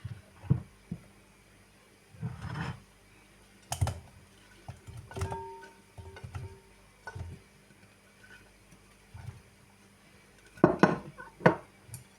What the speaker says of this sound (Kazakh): Қазір жеке тысқа салып алайын.